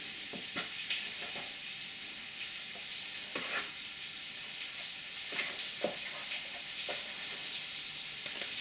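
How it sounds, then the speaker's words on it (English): Chicken pieces frying in olive oil in a pan for a stew, a steady close hiss of sizzling with occasional louder crackles and pops, continuous throughout with no talking. "I know we're frying, but we're cooking in olive oil"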